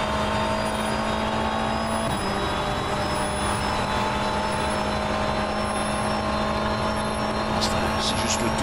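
BMW M V8 Hybrid LMDh race car from the URD mod in rFactor 2, engine droning steadily on a warm-up lap with a sustained tonal whine that shifts pitch partway, while someone talks over it.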